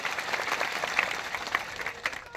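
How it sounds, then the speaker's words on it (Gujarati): Crowd applause at a tribal mahapanchayat village gathering, a dense steady wash of many hands clapping at moderate distance, sustained through the moment without speech over it. "સૌને એકવાર જોરદાર તાળીઓથી વધાવી લો."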